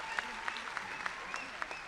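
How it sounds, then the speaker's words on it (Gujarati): An audience at a police-organised summer camp closing ceremony claps steadily for children's patriotic performances, a brief, even patter of many hands heard at moderate distance. "તાળીઓ હોવી જોઈએ।"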